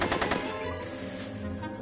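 Back to the Future video game gunfire: a fast, loud rattle of rapid shots that gives way to a lingering rumbling echo.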